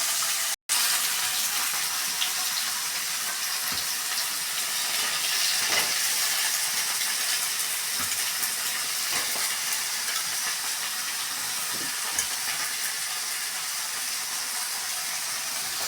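Brinjal, knol-khol and potato pieces, soaked in water, hit a hot kadai and fry with a steady broadband sizzle and hiss that holds at an even level throughout.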